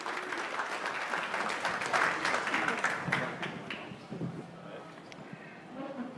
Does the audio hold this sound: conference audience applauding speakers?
yes